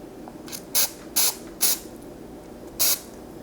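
Aerosol cooking oil spray from a can, four short hissing bursts at close range while preparing a cinnamon-sugar baked treat in a home kitchen, with quiet gaps between sprays.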